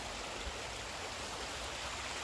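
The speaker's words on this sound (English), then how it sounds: "And I love the sound of the water." Steady rushing water of a stream near Lake Thun, Switzerland, a dense, even wash of noise that holds constant, close and fairly loud, with no voices over it.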